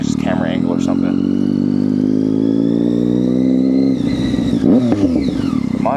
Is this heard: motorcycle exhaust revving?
yes